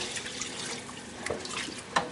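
Cool liquid is poured into a thick flour roux in a kitchen pan, producing a soft, steady trickling splash that stays fairly quiet and close for a couple of seconds.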